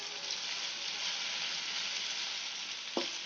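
Cauliflower pakoda batter dropped into hot oil sets off a steady loud close sizzle throughout, with one brief sharp clatter near the end.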